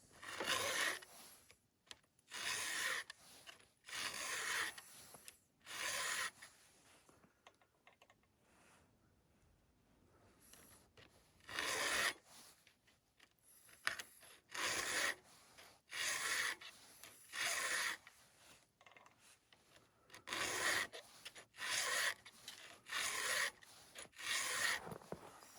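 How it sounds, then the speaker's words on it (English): Hand file strokes across chainsaw chain teeth and depth gauges, a series of rhythmic rasping scrapes in evenly timed groups with a quiet pause midway, close and moderately loud. "this also sharpens or cuts down your drags as you're filing it as well"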